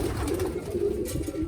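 Several pigeons coo steadily inside a cage, a continuous low throaty murmur of overlapping calls, close and moderately loud with no talking.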